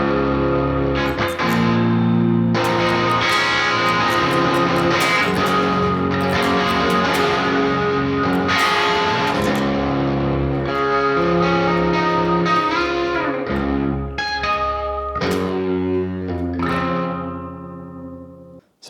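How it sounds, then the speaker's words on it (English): Electric guitar played through the Neural DSP John Mayer X plugin with reverb and delay switched off. A continuous passage of picked notes and chords runs for the whole stretch, with a denser strummed section near the end, close and dry. "Turn the reverb off and the delay off."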